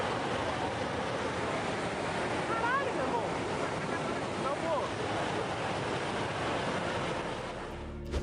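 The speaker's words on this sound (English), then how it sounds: "When a lake begins to get too full, officials in charge will sometimes authorize an emergency water discharge" An emergency water discharge from a dam on an overfull lake roars as a constant, powerful rush of water, loud and unbroken, easing slightly at the very end with no voices.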